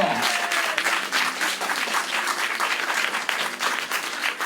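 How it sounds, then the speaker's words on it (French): Audience members at a live music show applaud steadily and loudly throughout, a continuous wash of clapping with a faint voice briefly heard beneath it. "Et on l'applaudit encore bien fort."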